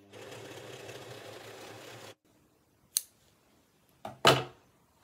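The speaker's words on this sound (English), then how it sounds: "I love my serger." A serger overlocker runs steadily at high speed for two seconds stitching cushion fabric edges, then stops; a few sharp clicks and snips follow in the quiet.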